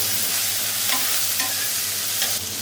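Spices and ground shrimp frying in a pan for a Bengali shukto with taro stems, a steady close sizzle with faint scraping stirs, no voices.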